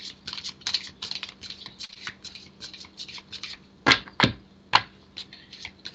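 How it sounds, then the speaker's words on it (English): Tarot cards being shuffled by hand, a rapid series of crisp riffling clicks and snaps close up, with a few sharper slaps near the end. "I want them to be shuffled really well, nice and warm."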